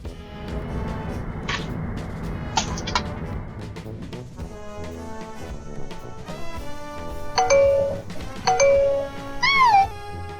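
A doorbell set off by a cat chimes several times in a backyard, the ding-dong tones ringing out clearly between stretches of quieter outdoor sound, with no one talking.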